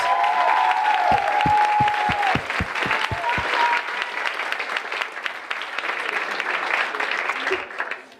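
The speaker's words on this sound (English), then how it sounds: "can we give them one more round of applause?" A concert audience gives a sustained round of applause for graduating seniors at a jazz concert, dense clapping filling the room for several seconds with a few sharper early claps, then easing slightly toward the end.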